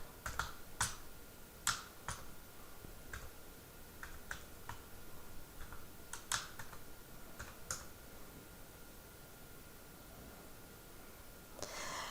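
Typing on a computer keyboard: scattered, sharp key clicks in short irregular bursts, fairly faint and close against a quiet background.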